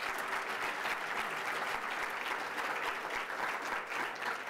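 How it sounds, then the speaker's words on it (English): An audience at a graduation ceremony applauds steadily, a dense continuous patter of many hands clapping at moderate distance for the whole stretch, with no voices standing out. "Can you all just give a round of applause to our young people like you're crazy?"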